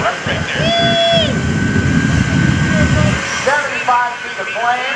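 Twin J-34 jet engines roar at an airshow, a loud rushing jet noise with rising and falling whine tones, while a crowd murmurs and an announcer talks over it.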